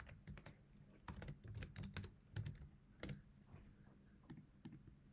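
Rapid clicking keystrokes on a computer keyboard as an email address is typed, quiet and close, in uneven bursts with short pauses and no talking.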